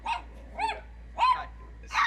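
Dogs barking at strangers: four separate sharp barks spaced roughly evenly over a couple of seconds, clear and moderately close against a quiet low hum, with no talking.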